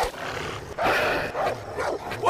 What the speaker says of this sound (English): What is that dog going off about?